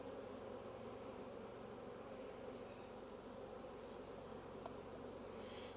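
Honey bees drone in a dense, steady buzz during a November varroa mite check, a continuous low hum from many bees close by with no talk.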